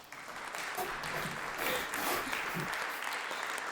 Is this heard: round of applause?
yes